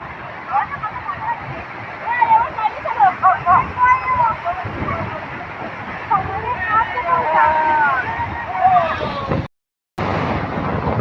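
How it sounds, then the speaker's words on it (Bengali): Strong sea waves crashing at Digha beach on a rough sea, a loud continuous roar of surf with surging swells, a voice talking over it and a brief dropout near the end. "প্রচন্ড ঢেউ আসছে প্রচন্ড ঢেউ বন্ধুরা"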